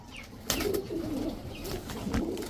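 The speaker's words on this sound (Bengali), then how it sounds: "এটা একটা মাদি কবুতর একেবারে নতুন একটা মাদি কবুতর" Close cooing of a female pigeon, a few soft throaty coos in a row, with light rustling and a faint chirp in the background.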